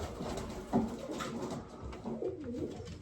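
Pigeons coo in a loft, a few soft throaty warbling coos near at hand over quiet rustling background.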